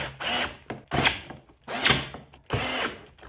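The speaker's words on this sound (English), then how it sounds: "get those screws started by hand, and then use your drill to tighten them up" A power drill drives screws tight while a gaming chair is assembled, four close, loud whirring bursts of roughly half a second each separated by brief pauses, with no talking.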